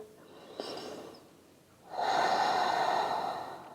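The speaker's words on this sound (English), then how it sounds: "Breathe. Don't forget to breathe." Deep breathing during a yoga pose: a short nasal inhale, a pause, then a long, loud, close exhale with no talking.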